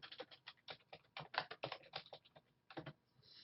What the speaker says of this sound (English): We'll type in school.